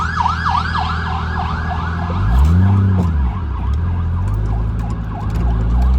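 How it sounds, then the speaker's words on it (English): Emergency sirens wail nearby, a fast yelping siren layered with a slower rising and falling one, loud and continuous amid traffic noise. "Ooh, sirens."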